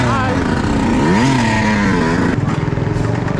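A dirt bike engine drones and revs steadily up close, its pitch rising and falling with throttle, with people talking over it.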